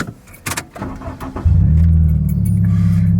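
A modified car's engine catches after a few clicks and rattles, then settles into a loud, steady, deep rumbling idle close by.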